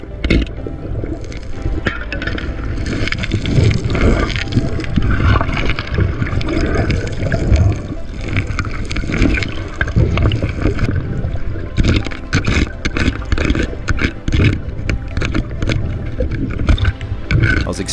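Waterfall pouring into a bedrock pool, a loud, close, continuous rushing and splashing roar with no voices.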